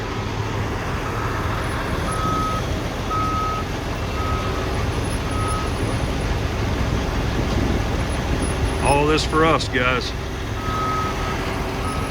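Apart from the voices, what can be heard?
orange truck pulling up with reversing beeps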